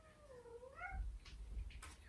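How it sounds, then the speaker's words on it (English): A cat at the door lets out a drawn-out, wavering meow close by, followed by faint rustling and soft thumps, with no one talking. "My cat is at the door."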